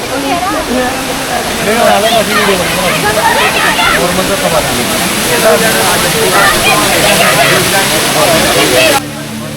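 A large waterfall near Neelkanth Mahadev outside Rishikesh roars loud and continuous, a dense broadband rush that fills the whole stretch with a brief drop at the end.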